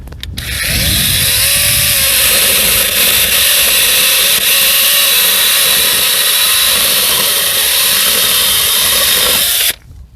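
A GTM CS18/127BL cordless mini chainsaw pruner runs at a steady high-pitched whine close up, starting abruptly and cutting off just before the end, with no talking.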